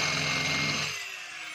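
A DeWalt D25012 rotary hammer whirs in drill mode with a steady motor drone that winds down and fades near the end of the short burst, with no talk over it.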